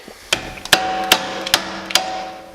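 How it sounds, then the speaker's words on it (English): Hammer blows against a stuck bolt during a repair after removing a socket, five sharp metallic strikes spaced roughly every half second, close and loud over a quiet ringing background. "This is the most expensive hammer I own."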